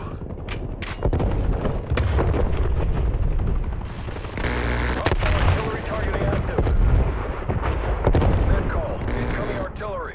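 Automatic gunfire and explosions in the shooter game Call of Duty Black Ops Cold War, loud bursts of rapid shots and booms in clusters throughout, with someone talking excitedly over them.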